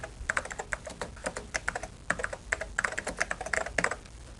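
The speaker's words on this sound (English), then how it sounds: "Let me type that in for you." Rapid typing on a 1995 Macintosh computer keyboard, a dense run of close, clicky keystrokes with uneven rhythm and no talking.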